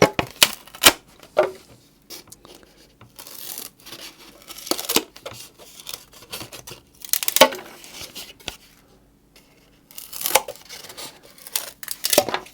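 Sharp snipping and crunching of scissors cutting through a brittle polystyrene foam tray, in irregular bursts with short pauses between cuts.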